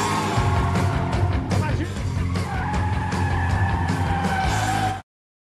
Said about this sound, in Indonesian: adegan aksi kejar-kejaran mobil pun terjadi